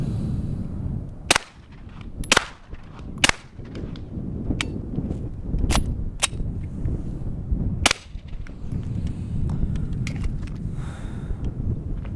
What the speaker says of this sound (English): I'm going to go ahead and slap the trigger a couple times and see if we can get it to cycle all right